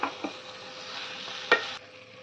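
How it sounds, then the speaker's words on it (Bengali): A spatula scrapes and stirs fried potatoes with spices in a hot pan with a steady sizzle, including a few sharp scraping strokes. "আলুর সঙ্গে আর মশলার সঙ্গে মাখিয়ে আমি একটুখানি নাড়াচাড়া করে নেব"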